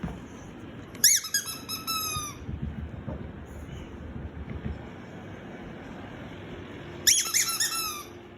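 Squeaky piggy toy squeaked near a cockatoo, two loud, close bursts of shrill rubbery squeaks, one early and one near the end, over windy, rumbling background noise.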